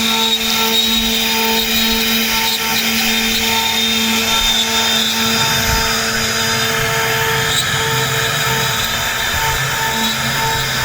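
A CNC router carves a design into a wooden door panel, giving a steady, loud machine whine with a constant hum and sustained high-pitched cutting noise throughout, no voices.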